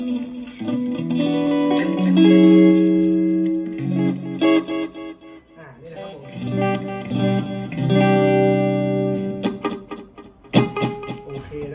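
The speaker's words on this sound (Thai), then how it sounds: "ดีเลย์ถ้าเราปรับเยอะมันก็จะช้านะครับ" Electric guitar notes ring out through a small guitar amp's built-in effects with lush reverb and repeating delay echoes, the tails trailing after each phrase before fading.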